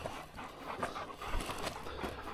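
Hunting dogs out with hounds on a bear chase pant quickly and raggedly up close, with snuffling and faint whimpers over a rough, noisy outdoor background.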